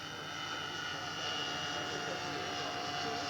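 A scale military Piper Cub model aircraft powered by four OS 61 engines turning three-bladed props flies over the field, a steady buzzing multi-engine drone at moderate distance with a faint voice underneath.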